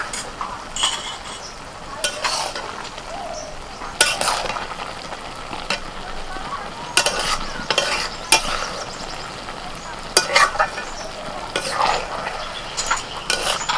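Tomato rice cooking in a pot is stirred with a metal spoon, giving scattered scraping knocks and clinks against the pot over a soft, steady sizzle, close by with no talking.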